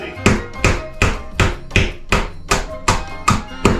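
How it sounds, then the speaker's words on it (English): A hammer drives a tack nail into a wall board with about ten sharp, evenly spaced, close strikes in a steady rhythm. "Let me tack one in right here, just see if this has a stud."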